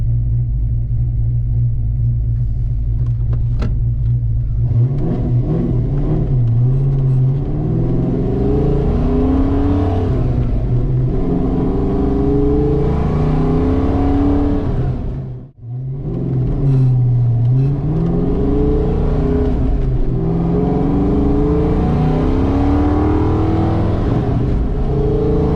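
Car engine fitted with 19 lb injectors revving loudly up and down in long, rumbling sweeps, close and steady, with a brief drop in the middle as the throttle is released and reapplied.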